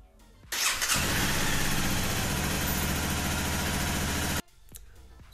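A Honda CBR 250 motorcycle engine cranks briefly, then catches and starts, running at a loud, steady, close idle for several seconds before cutting off abruptly.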